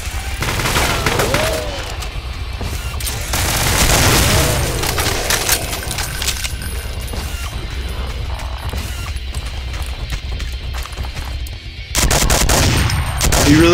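Rapid gunfire fills Brutal Doom with Project Brutality as shots pour into pinky demons, loud sustained automatic bursts with heavy booming impacts and crunching hits, continuous and close.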